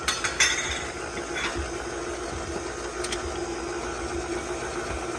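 An electric mixer whirs steadily, blending a sweet cheese log mixture, with a constant mechanical drone and a few faint clinks of the bowl, at moderate loudness and no talking.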